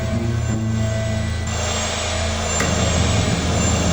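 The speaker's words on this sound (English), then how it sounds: "all that's left is the sound of the engines." Steady, loud Boeing 737 jet engine roar on takeoff with a low droning hum, continuous throughout with no pauses.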